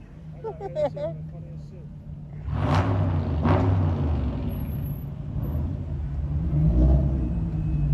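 A car engine rumbles low and revs in short pushes while reversing at an outdoor car meet, with deep throbbing exhaust after brief talk at the start.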